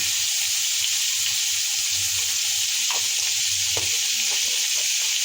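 Potatoes fry in a pan with a steady, loud sizzle throughout, broken by a few soft clinks and stirring scrapes, with no voices present.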